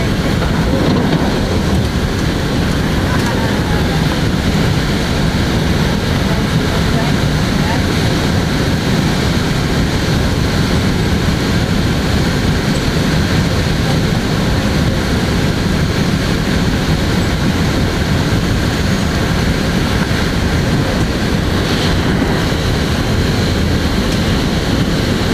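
An M2 electric multiple unit commuter train runs along the track, a steady, loud rumble and rattle of wheels and car body that holds unbroken throughout, with faint higher whine over the continuous noise.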